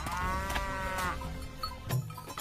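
An old buffalo moos loudly and nearby, two drawn-out lowing calls followed by a shorter grunt, with no speech over it.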